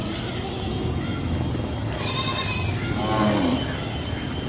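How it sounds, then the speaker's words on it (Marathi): Kathiawari goats bleat over steady farmyard noise, one or two calls rising clearly in the middle, with no speech over them. "एक नंबर क्वालिटीच्या शेळ्या काढून दिल्या आहे"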